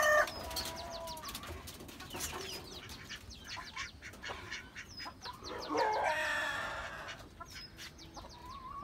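Desi chickens kept on a rooftop cluck and squawk repeatedly at close range, in several overlapping calls with a busier burst near the end, over a quiet outdoor background.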